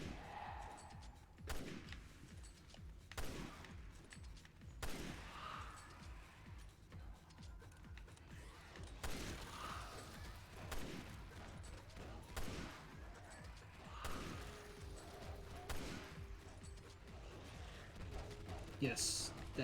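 Rifle gunfire from the Resident Evil Revelations 2 game, a run of sharp shots repeating every second or two over a busy rumbling game background, with a person talking throughout.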